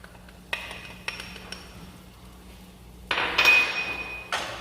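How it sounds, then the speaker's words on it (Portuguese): A metal pot is set down on a stove in a home kitchen before olive oil and onion go in for risotto. A few sharp clinks and knocks are followed by a louder scrape and clatter near the end. "Eu botei a panela para esquentar."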